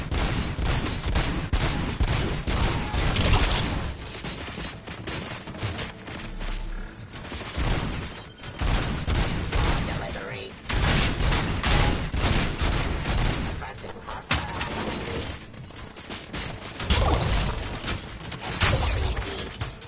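Dense, continuous gunfire in a PS5 shooting game, aimed at a sniper: loud overlapping bursts and crashes roll on almost without pause, easing briefly around the middle before picking up again.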